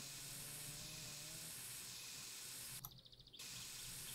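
Spray paint hissing onto a car body in the video game My Summer Car, a continuous close broadband hiss that cuts off briefly for a moment before resuming.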